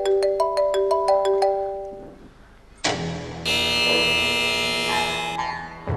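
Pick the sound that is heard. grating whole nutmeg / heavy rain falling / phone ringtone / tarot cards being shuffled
phone ringtone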